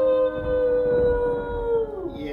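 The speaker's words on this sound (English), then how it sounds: "with the howling of the wolf, we are getting this night started properly" A wolf howls in one long, loud, steady tone that wavers only slightly before fading near the end, heard alone with no talking.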